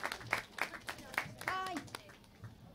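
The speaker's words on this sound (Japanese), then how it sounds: "皆さんもう一度大きな拍手をお願いします" Scattered hand clapping from a modest audience after a live band performance at Tokyo Tower, fairly quiet and distant, with a voice speaking over it.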